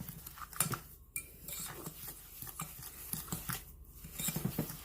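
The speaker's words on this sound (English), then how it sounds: "Get it mixed around in there." Lemon cookie dough with one large egg stirred in a bowl: close, steady clinking and scraping of a utensil against the dish in a continuous irregular patter, with no talking.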